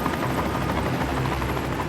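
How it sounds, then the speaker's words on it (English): A rescue helicopter, Westpac 1, touches down on a small grassy ledge. Its rotors and engine make a loud, steady, close roar that does not let up, with no voices. "Helicopter Westpac 1"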